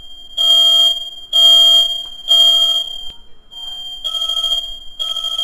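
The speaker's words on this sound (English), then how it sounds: "fire alarm's going off during my video" A household fire alarm shrieks in loud, piercing bursts of electronic beeping, about three long blasts followed by shorter repeated tones, close and dominating with no talk.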